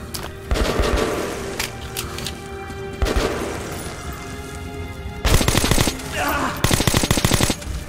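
Heavy machine gun fire in Metro: Last Light, loud close bursts with booming impacts, separated by short pauses and growing denser toward the end, with some faint talk mixed in.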